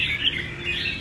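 A caged songbird sings in a quick run of bright chirps and trills over a steady background hiss, close and fairly loud for about a second with no one talking.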